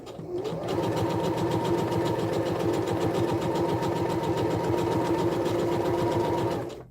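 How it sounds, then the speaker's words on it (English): A sewing machine stitches steadily and smoothly at a constant fast rhythm, running close and loud for nearly the whole stretch before stopping at the end, with no talking. "you can see this machine sews so smoothly"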